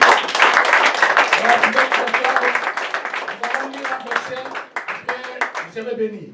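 A church congregation applauds during a worship service in Paris, dense rapid clapping from many hands filling the room, with voices calling out over the applause.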